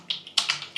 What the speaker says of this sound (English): we will be just typing here